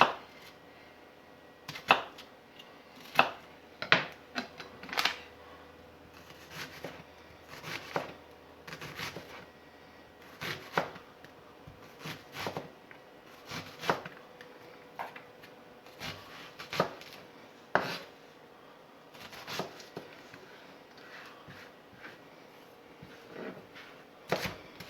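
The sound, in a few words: chopping a red onion with a knife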